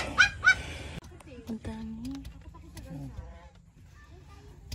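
A nesting goose beside its eggs on a farm gives two quick loud honks up close, then falls quiet, followed by softer scattered calls and faint rustling.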